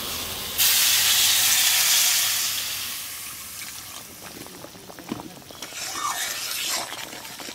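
Water hits a hot cooking pan of meat with lemon leaves and lemon peel and bursts into a loud hiss of steam, then fades to a softer bubbling simmer with light clatter.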